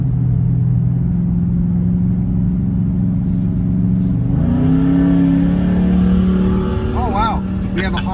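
A hopped-up Chevrolet S10 pickup revving for a drag race: a loud, constant engine rumble whose pitch climbs midway and holds. A brief voice is heard near the end.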